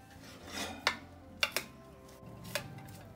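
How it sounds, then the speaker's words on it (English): Roasted carrots in garlic butter being stirred in a pan, giving a few short scraping rubs and three or four sharp utensil clicks against the metal over a low background, with no talk. "mix these up."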